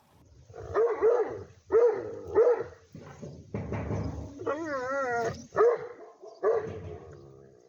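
A large Central Asian Shepherd dog (Alabai) barks several times in deep, booming bursts with short gaps, mixed with a whining, wavering vocalization partway through.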